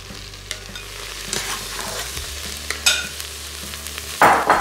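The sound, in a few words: beef browning and searing in a pan, being stirred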